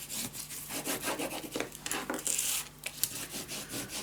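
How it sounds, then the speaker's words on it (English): Tape being burnished down onto a paper mini album, a steady close rubbing scrape repeated in quick strokes, with occasional louder hiss-like swipes. "Burnish it down"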